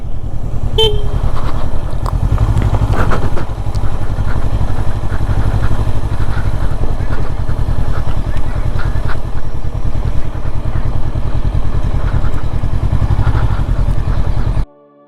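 Honda CB500F motorcycle cruising in third gear at about 30 km/h on a narrow road, its steady engine drone continuous and close throughout, with a brief horn-like tone near the start and wind rush over the engine.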